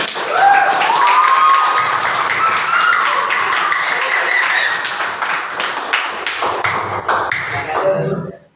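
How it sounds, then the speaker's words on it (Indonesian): Schoolchildren in an Indonesian-language classroom lesson clap together in a dense, steady burst lasting several seconds, with a voice and chatter mixed in before the sound cuts off sharply. "Tepuk tangan anak"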